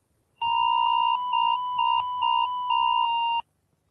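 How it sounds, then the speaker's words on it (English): A robot dog attack warning alarm: a loud, steady electronic tone pulsing in about five short repeated bursts over three seconds, close and clean, then stopping abruptly. "warnings of the attack will be broadcast through a text message warning and sound"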